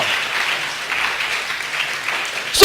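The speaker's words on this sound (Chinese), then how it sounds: "用掌声献给耶稣哦！" A church congregation at a Saturday service breaks into sustained applause, a steady close wash of clapping that swells briefly near the end.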